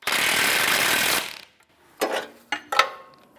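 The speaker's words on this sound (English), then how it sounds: "we'll get our 21mm wrench and 1/2-inch drive socket and snug those up" A ratchet with a 21mm socket on a half-inch drive clicks while tightening the sway bar bushing bolts on a 2009-2014 Nissan Maxima: a burst of rapid ratcheting, a pause, then three short separate clicks and clanks up close.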